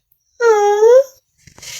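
A dog's single drawn-out whimper or whine, close and fairly loud, slightly falling in pitch, followed after a short pause by a brief faint rustle.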